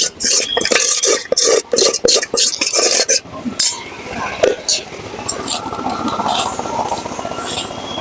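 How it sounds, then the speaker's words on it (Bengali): Jaggery batter for pitha is scraped and poured from a pot into a bowl. Choppy clinks and scrapes of a utensil against metal come close and loud at first, then give way to a softer, steady sloshing pour. "এবার আমি বাটির মধ্যে ঢেলে নেব।"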